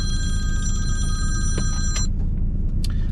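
A telephone rings inside a car as it drives, a bright electronic ring lasting about two seconds over the steady low rumble of the engine and road, followed by a few faint clicks.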